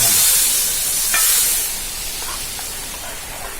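Hot curry leaf tempering poured into a potato curry gives a loud, broad sizzling hiss that starts strong and gradually settles into a softer crackle.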